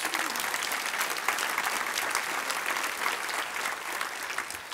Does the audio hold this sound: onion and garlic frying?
no